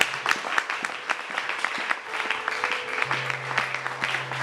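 A church congregation at a worship service in Brazzaville applauds and cheers, a dense, steady wash of clapping that carries through the whole stretch with a sustained tone humming underneath.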